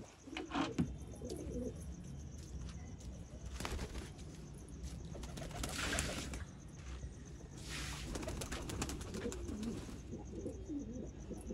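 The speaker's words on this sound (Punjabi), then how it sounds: "ਕਬੂਤਰੀਆਂ ਆਂਡਿਆਂ 'ਤੇ ਬੈਠੀ ਆ।" Pigeons sitting on eggs coo softly in a loft, low repeated coos mixed with occasional wing flutters and rustling, moderately near over a steady background hum.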